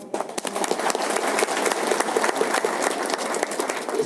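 A crowd applauds at a business leadership talk, the clapping starting abruptly and then rolling on thick and sustained, with individual hand claps standing out near the front.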